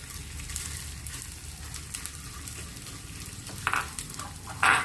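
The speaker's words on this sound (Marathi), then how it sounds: "ह्या पॅनमध्ये एक तूप घेतलेलं आहे आणि त्याच्यामध्ये आपल्याला डिंक तळून घ्यायचं आहे" Edible gum (dinka) frying in ghee in a pan, with a steady soft sizzle throughout and a few brief louder crackles and scrapes near the end.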